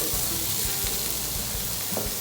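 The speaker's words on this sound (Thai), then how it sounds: "เราก็เอาเส้นที่เราแช่ไว้เนี่ย ใส่กระทะลงไปเลย" Soaked noodles for pad thai sizzle and crackle in a hot pan while being stirred, with a steady loud frying hiss and occasional scraping knocks.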